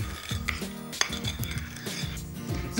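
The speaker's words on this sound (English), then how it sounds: "Stir all of this through." A spoon clinks and scrapes repeatedly against a bowl while chocolate brownie batter is stirred, giving an irregular run of close utensil taps.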